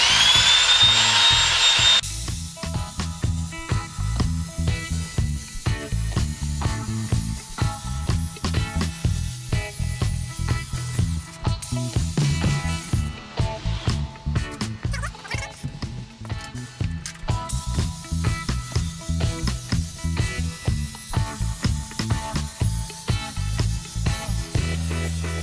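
Wet sanding a BMW Z4 E85 headlight lens by hand with 2000 grit sandpaper, a continuous rhythmic scrubbing rasp close up, steady throughout with brief pauses, no talking.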